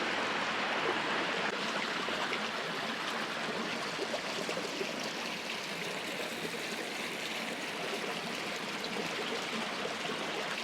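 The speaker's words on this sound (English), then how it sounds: "that's water falling down" Continuous splashing and rushing of water pouring into a stream at Tonto Natural Bridge State Park, steady and moderately loud, with no voices.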